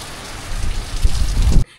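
Heavy rain pours steadily on surfaces in Nepal, a dense, loud, continuous wash with thumping low impacts. It cuts off abruptly near the end.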